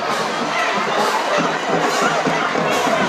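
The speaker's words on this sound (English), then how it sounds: "And this Tiger crowd getting restless" Crowd noise fills the stands at a high school football game in the third quarter, a steady loud roar of shouting and chatter with scattered cheers, continuous throughout.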